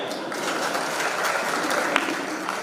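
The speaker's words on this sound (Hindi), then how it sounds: "जोरदार तालियां" Steady, dense applause from a crowd, sustained throughout at moderate level with no speech over it.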